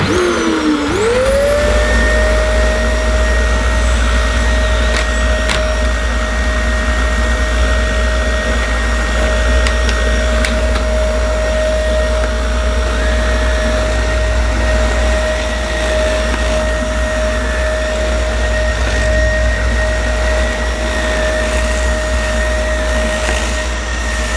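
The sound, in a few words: upright vacuum cleaner running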